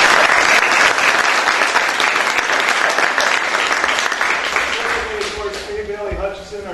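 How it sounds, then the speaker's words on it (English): An audience at a rail study launch event applauds Judge Anderson with full, sustained clapping that gradually thins out, as a voice starts speaking near the end. "I would like to give him a round of applause."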